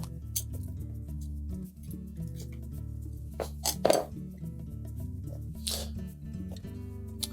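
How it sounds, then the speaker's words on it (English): A metal hinge and its protective spacer are lifted off the bottom door of a Whirlpool refrigerator, giving quiet metallic clinks and scrapes with a few sharper knocks over a low steady background. "We'll lift off the old hinge, then remove the protective spacer on the back side of that hinge."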